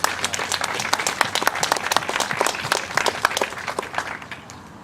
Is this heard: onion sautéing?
no